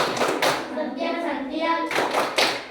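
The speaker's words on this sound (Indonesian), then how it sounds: "Beri tepuk santiang kepada kelompok 1." Fifth-grade class doing a rhythmic tepuk santiang clap for a group, bursts of hand claps with children's voices chanting along in between.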